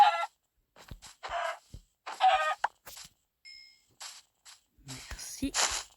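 Minecraft chickens give repeated short clucks in separate bursts, near and moderately loud, with gaps of silence between.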